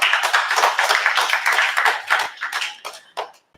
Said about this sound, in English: You want to clap for the homie? Can clap for the homie.